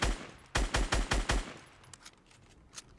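Six rapid, loud gunshots crack in quick succession in Fortnite as a player fires at a supply drop, followed by softer scattered clicks and faint distant shots.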